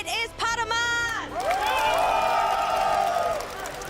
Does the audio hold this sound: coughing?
no